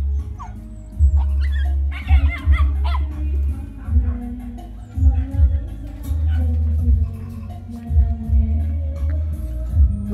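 A spotted Phu Quoc dog hunting a rat, heard up close as short yips and whimpering bursts over heavy, thumping low scuffling noise, repeating irregularly throughout.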